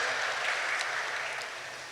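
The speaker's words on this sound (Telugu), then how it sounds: "కాబట్టి అనిల్ కోసం ఒక్కసారి చప్పట్లు కొట్టాలి" Audience applause at a live film music night event, a steady dense wash of clapping from a large crowd that holds throughout and eases slightly toward the end.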